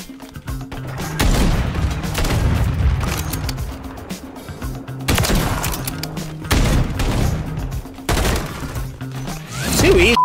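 Sniper rifle gunfire in an online shooter game: several loud, booming shots spaced a second or two apart, each with a ringing tail, close and heavy over game noise.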